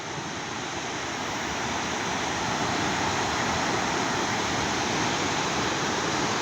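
Steady, loud rushing water roars continuously, a dense broadband wash with no pauses, like a fast muddy flow churning past nearby: a muddy mudflow on a road in Boom, Kyrgyzstan.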